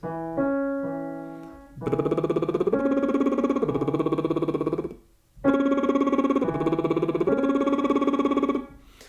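Two sustained tones sound together as a major sixth interval, breaking off briefly in a short silent gap before resuming; a short lower note opens.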